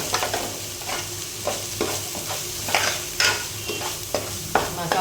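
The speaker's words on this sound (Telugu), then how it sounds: "మసాలాలు బాగా ఫ్రై అవ్వాలి" Masala spices frying in a pan for a jilebi fish curry, a continuous sizzle overlaid by repeated scraping stirs and light clinks of the spoon, close and fairly loud.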